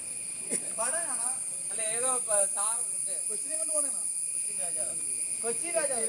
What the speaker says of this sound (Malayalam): ചീവീടിന്റെ ശബ്ദം അത്.